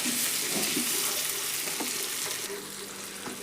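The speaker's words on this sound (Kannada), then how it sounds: "ಇವನ್ನ ಫ್ರೈ ಮಾಡ್ಕೊಳ್ಳೋಣ್ರಿ ಎಣ್ಣೆ ಒಳಗೆ." Chopped tomatoes fry in hot oil in a pan for a potato palya, giving a steady, close sizzle with a few soft stirring clicks and no talking.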